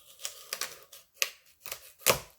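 A knife chops through a small radish being prepared for dongchimi, giving five or six crisp, separate cuts at uneven intervals, close and distinct against silence.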